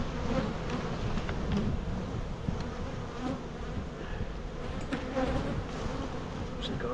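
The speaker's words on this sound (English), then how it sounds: "Now I got a ton of bees on the box." Dense swarm of honey bees on a hive box, with honey supers being added: a steady, close buzzing drone lasting the whole clip, rising and falling slightly, with no voices.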